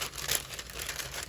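A sheet of paper being slipped out from the side of a vintage junk-journal haul package, giving a soft continuous crinkling and rustling for about a second, close and fairly quiet, with no talking.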